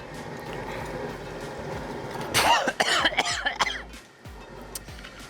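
A burst of harsh coughing partway through, several quick coughs close by from spicy seasoning fumes while cooking ramen popcorn, after a stretch of quiet background noise.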